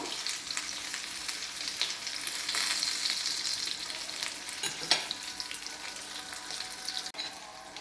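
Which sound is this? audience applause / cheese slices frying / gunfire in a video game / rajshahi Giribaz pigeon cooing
cheese slices frying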